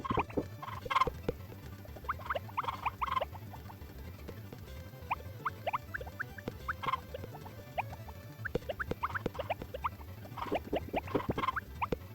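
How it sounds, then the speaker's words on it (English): Chickens in a coop in the farming video game Harvest Moon make faint, scattered chirps and clucks over a low background hum, with small patters of movement throughout. "So let's take care of the chickens."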